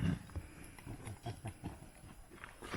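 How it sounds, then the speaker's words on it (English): A whole bunch of horses clip-clop through a canyon on a scout ranch trail, uneven hoof thuds overlapping at a moderate distance, fairly quiet. "Whole bunch of horses back here coming through the canyon."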